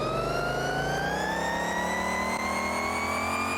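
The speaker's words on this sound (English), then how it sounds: "So it's just a normal turbo whistle." A turbo whistle from a custom Battle Truck engine mod in American Truck Simulator rises slowly as a continuous high whine. It sits over a steady engine drone and stays loud and close throughout.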